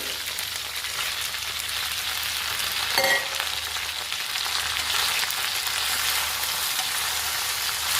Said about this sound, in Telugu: ఇప్పుడు పచ్చిమిర్చితో పాటు ఈ టమాటాలను కూడా ఫ్రై చేసుకోవాలి